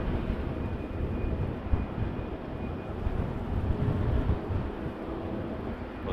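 A Boeing 777 airliner departing Vancouver airport makes a broad, steady jet roar that rumbles on through the whole stretch, distant but loud and even, with wind buffeting the microphone and no talk.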